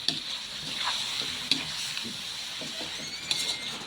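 Monitor lizard meat seared in a hot pan for a dry Filipino adobo, sizzling and frying steadily up close, with a few sharp spatters and the scrape of stirring.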